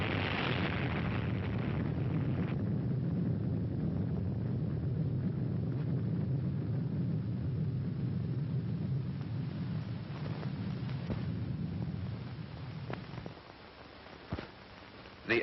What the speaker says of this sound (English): The epicenter of the detonation of the bomb was approximately 650 yards from the USS Nevada.